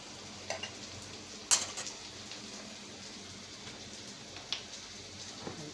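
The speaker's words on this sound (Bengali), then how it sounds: "এখন কড়াইটা গরম হলে তেল দিয়ে দিতে হবে।" Oil heating in a hot wok gives a soft, steady hiss throughout, broken by a few faint clicks and one sharper pop near the start.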